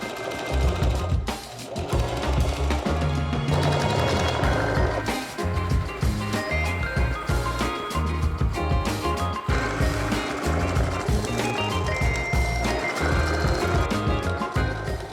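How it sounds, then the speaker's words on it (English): A sewing machine stitches upholstery side pieces for a DIY patio couch and ottoman, with a dense, rapid, rhythmic rattle running loud and close for the whole stretch. "I will sew up the sides"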